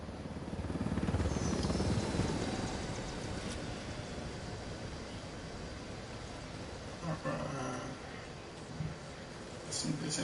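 A helicopter in a PS4 video game drones with a loud, whirring rotor rumble that holds steady and slowly fades slightly, with game sound effects clattering near the end.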